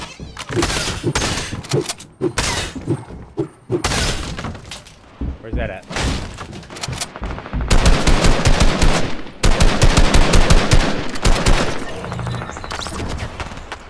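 Rapid bursts of assault rifle fire in a multiplayer shooter game, sharp repeated cracks in clusters with pauses between, loud and close, interleaved with players talking.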